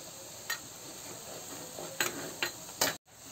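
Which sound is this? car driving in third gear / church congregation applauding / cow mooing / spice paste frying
spice paste frying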